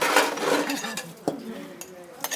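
Dishes and pots clink and knock together during washing, with several sharp close clatters in quick, uneven succession while voices talk over them.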